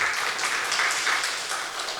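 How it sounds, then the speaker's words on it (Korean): A church congregation applauds to welcome a new pastor, with dense, steady clapping from many hands that fills the room evenly for a couple of seconds. "박수로 환영해 주시기 바랍니다"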